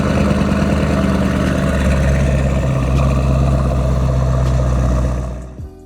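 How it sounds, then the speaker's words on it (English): Mercedes-AMG E63 S estate with a V8 turbo engine and open exhaust, heard from inside: a loud, deep, steady rumble that holds for about five seconds and then quickly dies away to quiet. "open up the beautiful V8 turbo exhaust"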